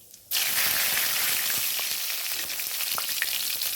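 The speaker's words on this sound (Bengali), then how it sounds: "এবার আমি তেলের উপরে একটু গোটা সাদা জিরে দিয়ে দিলাম" Whole white cumin and bay leaves hit hot mustard oil with a sudden loud sizzle that starts after a brief quiet moment and keeps up as steady, close, crackling frying with scattered pops.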